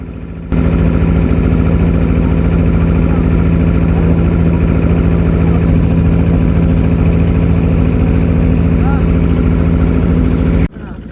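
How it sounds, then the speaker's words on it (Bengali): A fishing trawler's engine drones steadily at sea in the Bay of Bengal near the Sundarbans. The loud, low, continuous rumble has a strong hum, with no talk over it. "পিছনের ট্রলারটি দেখেন কেমন গতিতে আমাদের দিকে এগিয়ে আসছে"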